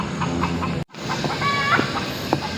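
Hidden chickens cluck in short bursts along an outdoor walking trail, fairly close, over steady background ambience with a brief silent break.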